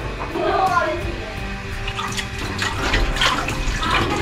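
Water is poured over calamansi in a kitchen, a splashing, trickling flow rising and falling beneath a person talking.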